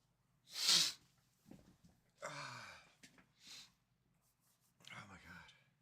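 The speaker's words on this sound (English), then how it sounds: "Random sneezing fit." A sneezing fit: one sharp, loud sneeze followed by several smaller bursts spread across a few seconds, close and otherwise quiet, with faint breathy sounds between them.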